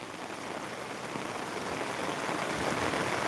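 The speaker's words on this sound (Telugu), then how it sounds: "దండి అంటే భారీ వర్షం కురుస్తుంది" A steady, dense hiss of heavy rain pours down continuously, even and unbroken throughout.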